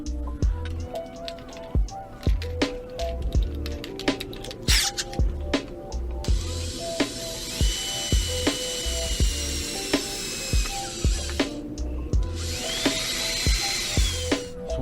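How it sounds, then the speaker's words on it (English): A power drill with a step drill bit bores holes for DIY mirrors on a Honda Integra, sounding as a close whirring grind in repeated short bursts with sharp clicks and taps between them, then a longer steady whine. "Then I take the step bit and just go down to the first step."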